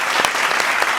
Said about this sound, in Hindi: ताली मेरे लिए भी बजाइए।